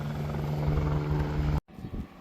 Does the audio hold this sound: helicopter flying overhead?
yes